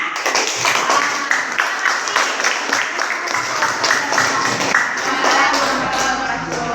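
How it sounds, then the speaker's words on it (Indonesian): A classroom audience claps together after a student group presentation on blood components, a dense run of fast, steady hand claps that stays loud and close throughout. "kita berikan tepuk tangan"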